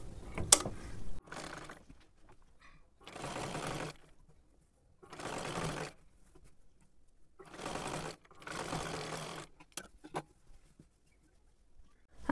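A sewing machine stitching a kurti runs in about six short bursts of rapid mechanical chatter, separated by near-silent pauses, with a few sharp clicks between runs.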